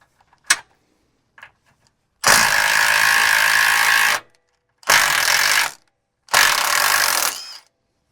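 A hand ratchet clicks rapidly while loosening a suspension bolt on a Toyota 4Runner, with three separate bursts of dense ratcheting of about two seconds, one second and one second, close up, following a couple of faint metallic taps.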